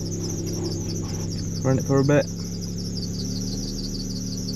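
An idling car being readied for its MOT gives off a rapid, repetitive high squeak that runs steadily over a low engine hum, and someone speaks briefly in the middle.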